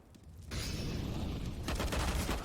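Gunfire in a Counter-Strike match on the Mirage map during a headshot, a dense burst of shots and impacts running steadily through the moment at moderate loudness.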